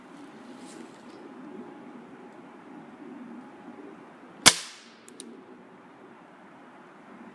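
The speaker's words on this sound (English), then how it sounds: "now we're going to be shooting the Gamo Red Fire" A Gamo Red Fire .177 pellet fires from an air rifle as one sharp, loud crack with a brief ringing tail, a faint follow-up tick, and steady low background hum before and after.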